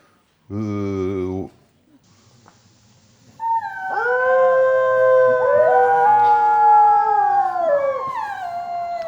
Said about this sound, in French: Donc là, vous avez plein de loups en même temps.